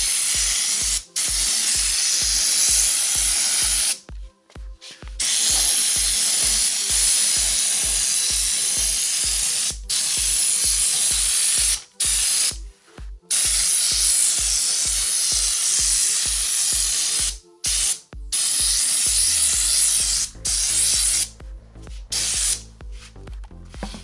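Spray gun laying primer thinned with Galosha solvent gasoline onto a car body with rusted, holed sills; loud, close hissing bursts pulse steadily, broken by short pauses where the trigger is released.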